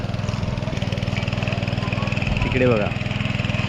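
A tractor engine runs steadily in a Konkan rice paddy during transplanting, a loud continuous low throbbing close by, with a person speaking briefly over it.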